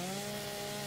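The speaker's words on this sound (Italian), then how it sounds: "La motosega." A chainsaw revving steadily in Gears 5, a video game, producing a continuous buzzing drone with strong harmonic bands that hold for the full second without a break.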